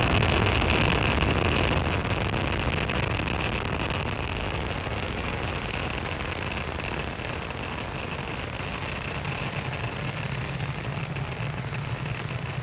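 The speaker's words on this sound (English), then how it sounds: "Falcon 9 has successfully lifted off from Space Launch Complex 40 at Cape Canaveral Space Force Station" A SpaceX Falcon 9 rocket climbs after liftoff from Space Launch Complex 40 at Cape Canaveral, a steady, dense broadband roar at moderate distance, unbroken and slowly easing, with no voices.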